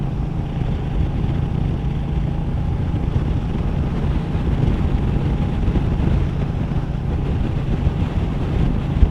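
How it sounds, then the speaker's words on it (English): Steady, heavy wind roar buffets the microphone with a low Royal Enfield Meteor motorcycle engine drone underneath, ridden at deliberately low speed, continuous and loud throughout, no talking. "but it's still very windy."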